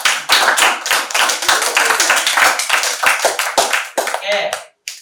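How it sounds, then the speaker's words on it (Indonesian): Classroom applause from students during an Islamic religious education lesson: a sustained wash of many hands clapping at close range, steady and fairly loud for about five seconds, with voices mixed in before it cuts off abruptly near the end. "tepuk tangan semuanya"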